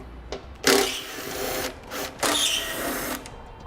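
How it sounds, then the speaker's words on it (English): Bolts on a 2013 Ford Taurus louver housing are loosened with an 8mm socket, giving two bursts of close mechanical whirring and rattling separated by a short pause, with no talking. "I'm going to be using an 8mm socket to remove those."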